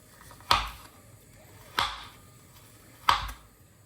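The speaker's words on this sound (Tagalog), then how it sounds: "At ayun, tinatadtad ko na rin ang crab." Three heavy knife chops land on a cutting board through frozen crab at slow, even intervals, each a sharp thud with a short ring in between quiet pauses.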